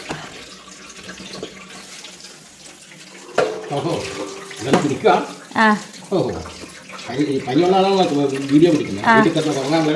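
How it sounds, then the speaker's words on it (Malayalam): Water runs from a tap while dishes are washed, with clinks and splashes as items are handled; a person talks over the sounds. "പാത്രങ്ങളൊക്കെ കഴുകുക"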